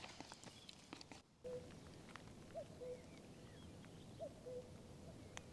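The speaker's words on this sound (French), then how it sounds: "Est-ce que vous entendez le coucou?" At night in a cold campsite, a cuckoo calls faintly in the distance, its two-note call repeating a few times over quiet ambient hiss with light rustling nearby.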